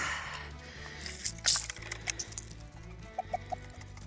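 Soft, irregular hen clucks sound close by over a low rumbling background, with a few brief sharp calls near the end.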